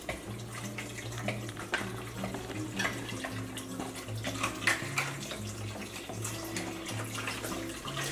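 Beef broth pours from a carton into a soup pot, a steady splashing, gurgling stream lasting several seconds, close and moderate in level, with faint background music and no talking.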